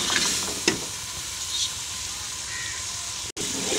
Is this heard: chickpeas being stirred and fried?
yes